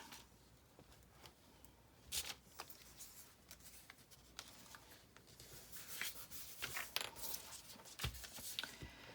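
A small glue stick is rubbed across old magazine paper while making a collage. Soft, close scraping strokes come in faint, irregular bursts, with no voices.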